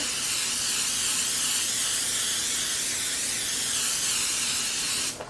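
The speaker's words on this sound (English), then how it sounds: "I'm just going to spray the tops of each one of the rolls really good" A steady, close butter spray hisses continuously onto bread rolls for about five seconds, then stops abruptly.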